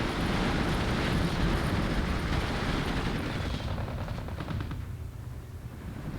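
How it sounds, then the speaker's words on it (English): Rapid machine-gun fire in Steel Division 2, a WW2 real-time strategy game: dense, crackling bursts that run loud for several seconds and then thin out and fade, with no talking. "They are shooting like a machine gun."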